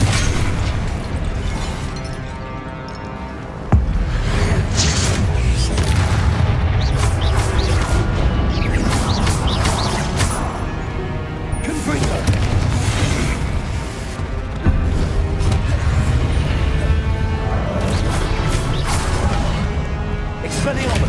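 Confringo fire spell explosions in a Hogwarts video game: dense, loud booming bursts and crashes layered over continuous game music and effects, with a voice casting spells throughout.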